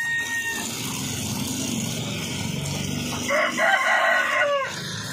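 Pet chickens and chicks, a rooster's crow rising out of soft clucking and peeping, fairly close, with a faint background hum.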